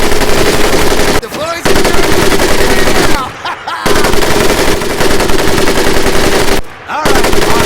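Machine gun fire in the Medal of Honor: Pacific Assault video game: loud, sustained rapid bursts broken by three short pauses, with a brief voice heard between them.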